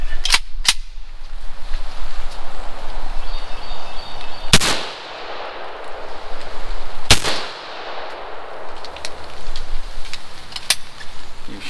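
Gunshots from a 9mm Pac-9 pistol at an outdoor shooting session: two loud, sharp reports about 2.5 seconds apart, each with a short decay, over steady wind and background noise, plus a few fainter clicks and pops.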